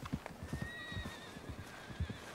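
A horse in the video game Red Dead Redemption 2 whinnies with a wavering neigh while its hooves clip-clop in an irregular rhythm beneath, fairly quiet and close.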